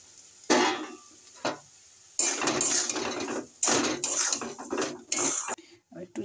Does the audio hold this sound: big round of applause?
no